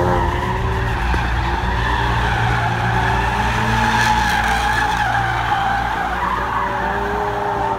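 A 2016 Ford Focus RS drifts on a public road, its tires squealing loudly and without a break over a constant engine drone, the screech wavering in pitch for several seconds with no talking.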